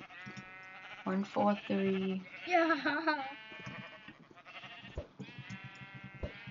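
Sheep in the video game Minecraft bleat repeatedly in wavering, nasal calls, several overlapping and close, while people talk over and between them.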